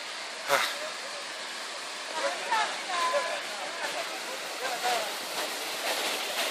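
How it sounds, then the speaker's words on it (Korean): Continuous rushing water from a small waterfall on the north slope of Mount Paektu, a steady broadband hiss with faint voices talking quietly underneath. "물이 내려서 작은 폭포를 이루는 곳 저기 폭포가 보입니다"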